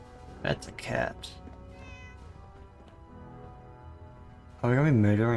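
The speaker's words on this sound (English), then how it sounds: "That's a cat." In the video game Fallout 4, a cat lets out a clear, drawn-out wavering meow near the end, after someone speaks briefly over quiet background game music.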